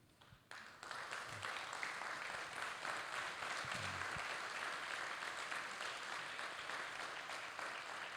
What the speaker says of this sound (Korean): 다 일어서셔서 뜨거운 박수로 격려해 주시면 감사하겠습니다